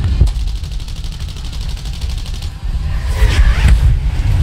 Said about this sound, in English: Somebody shot at me again.